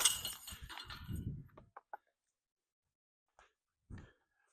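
A Discraft Zone SS disc golf disc crashes into basket chains with a bright metallic jingle that quickly fades. A few faint clinks follow, then near silence.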